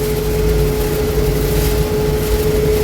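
Combine harvester engine running steadily while threshing soybeans in a field, a loud, constant low rumble and whine close by with no pauses.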